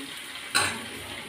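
Soya chunks for meal maker 65 frying in oil, a soft sizzle with a brief stir or clink, quiet and close.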